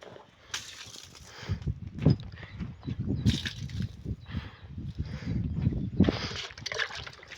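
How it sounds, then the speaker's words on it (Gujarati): Water being sprinkled over a house sloshes and splashes in uneven, continuous bursts, fairly close and moderately loud, with no talk. "અહીંયા પાણી છટાય છે"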